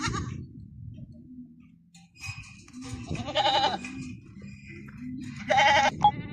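Goats on a farm in Saudi Arabia bleat loudly and close by, with two or three drawn-out calls separated by quieter shuffling and low background noise.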